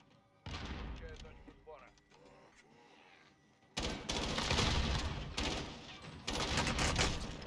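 Gunfire bursts in the battle royale shooter Warzone, loud repeated volleys filling the second half after a quieter stretch, with players talking over the action.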